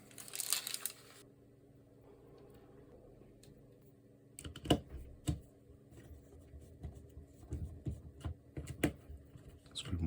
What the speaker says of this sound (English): Screw them all in a little bit loosely first